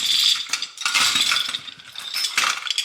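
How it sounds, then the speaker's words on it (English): Quick clicking ratchet of a Clark power winch pulley, several close bursts of metallic pawl clicks in a workshop, heard alone. "this, which is a winch pulley, a Clark power pulley, winch pulley system. It's like a ratchet on it."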